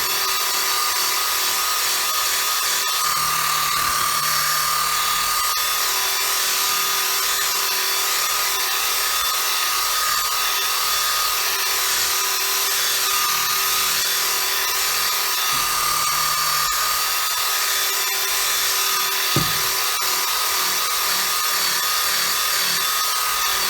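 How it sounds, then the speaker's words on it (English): Compact one-handed buffer with a buffing pad polishing paint, a continuous high-pitched whine that stays steady and loud, with slight changes in load throughout. "Now we're just going to hit this with the buffing pad. And I can do it one-handed here with this buffer."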